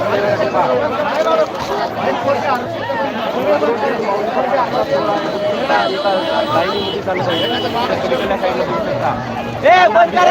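A dense crowd of Warkari pilgrims on foot in the morning, heading toward Natepute, produces a steady babble of many overlapping voices with constant chatter and footstep bustle, close and loud throughout.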